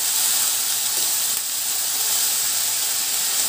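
Cabbage stir-fried and tossed in a hot pan, giving a steady, broad sizzling hiss that holds evenly throughout with no talking.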